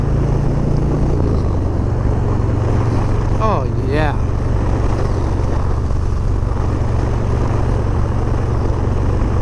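A deep, loud Harley-Davidson 114 V-twin engine on a 2021 Low Rider S with a Bassani 2-into-1 exhaust rumbles steadily throughout, with a brief spoken exclamation partway through.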